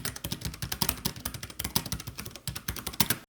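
Fast, steady typing on a mechanical keyboard with brown switches, crisp, moderately loud keystrokes clattering close by and no voices.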